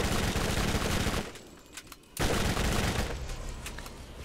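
Gunfire in the video game Borderlands rattles as dense, loud bursts of rapid shots, breaking off into a short lull before another sustained volley resumes.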